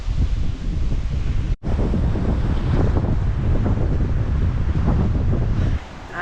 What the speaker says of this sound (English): The waves are getting much bigger behind us.